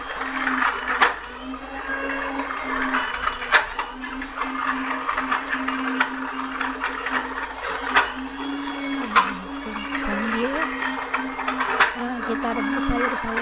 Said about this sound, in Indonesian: Ini kacang tanah aku mau halusin dulu